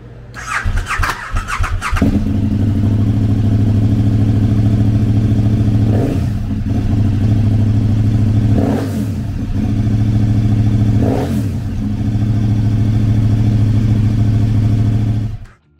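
A 2019 KTM 1290 Super Adventure S with a 1301cc V-twin engine starts with a brief whirring crank, then settles into a loud, close, steady idle with a few short throttle blips before cutting off.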